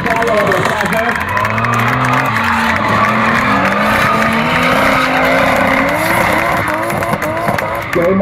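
Powerful race cars climb a hill-climb course in qualifying on Crete, engines revving hard with tires squealing and skidding close by, loud and continuous, while an announcer talks over the action.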